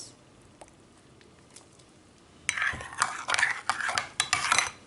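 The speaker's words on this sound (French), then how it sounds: "On mélange le tout." Vinegar and mustard salad dressing stirred briskly in a bowl, a quiet start giving way to a loud burst of scraping, clinking utensil strokes in quick irregular rhythm, close by.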